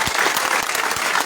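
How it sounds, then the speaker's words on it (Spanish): A church congregation claps loudly during a sermon on the blood of Christ, a brief burst of dense, even applause heard alone. "Denle fuerte ese aplauso al Señor."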